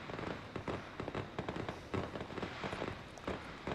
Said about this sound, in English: Here we have the fireworks launcher.